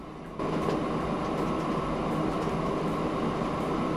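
A train in the railway game Train Fever rolls over a track switch, giving a continuous dense rumble and clatter with faint rhythmic clicks, steady and fairly loud throughout.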